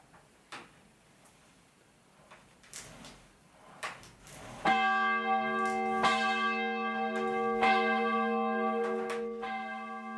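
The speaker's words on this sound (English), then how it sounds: "We will now see the process of ringing up the tenor in real time." The tenor bell at St Botolph's, Worthing, rung up in its tower: knocks and rope thumps come first, then the bell sounds out loud with a sustained ringing tone and repeated strikes, close by.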